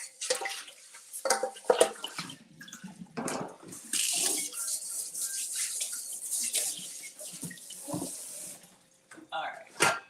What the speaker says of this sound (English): let's wash out the basin or this mixer bowl